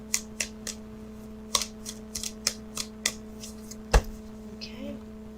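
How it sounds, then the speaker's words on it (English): Tarot cards being shuffled by hand in a series of soft, irregular riffling bursts, with one sharper snap near the end, over a steady low hum. "So what I'm doing now is I'm shuffling for the outcome card."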